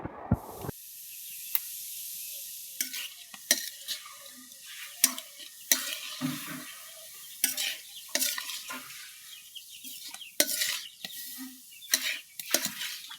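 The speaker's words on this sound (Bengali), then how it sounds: "ঘন্টাখানেক এই পেঁয়াজ, রসুন এবং আদা বাটাগুলোকে ভেজে নিতে হবে" Onion, garlic and ginger paste frying in a wok, with a steady sizzle under repeated sharp scrapes and clinks of a spatula stirring against the metal, close and fairly loud, with no talking.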